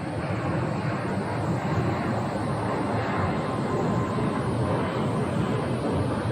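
A KC-135 tanker of the Arizona National Guard passes overhead, a continuous loud broadband jet roar that holds steady throughout, with no voices over it.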